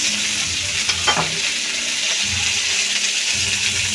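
Cauliflower sizzles steadily in hot oil while ginger paste is stirred in, with a constant bright frying hiss and a few soft scrapes of the spoon in the pan, close and continuous throughout.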